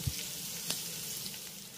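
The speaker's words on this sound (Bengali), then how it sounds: "এবার আদা আর জিরেটাকে আমি এই গরম তেলের সঙ্গে খুব ভালো করে একটু ভেজে নেব।" Chopped ginger and cumin seeds frying in hot oil in a pan give a steady, soft sizzle with a few small pops and crackles, heard close up with no talking.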